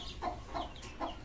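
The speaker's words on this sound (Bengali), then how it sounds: "টাইগার মুরগির বাচ্চা।" Young tiger chicken chicks cheeping and clucking softly in a few quick calls, close by and fairly faint.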